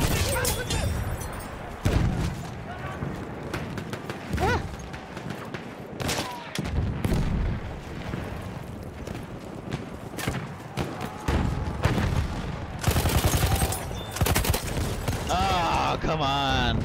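Sniper rifle shots and scattered gunfire ring out in a shooter video game, loud sharp cracks recurring over a dense battle din with voices talking throughout.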